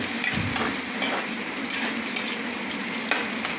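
Onion, garlic and ginger sauté in a hot pan for a mussel dish, a steady loud sizzle and crackle with occasional stirring scrapes, close and alone without talk.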